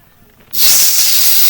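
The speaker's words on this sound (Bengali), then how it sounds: "এবার কাঁচকলাগুলো ভাজবো" Raw banana slices hit hot oil and burst into a loud, steady hissing sizzle after a brief quiet moment, close up.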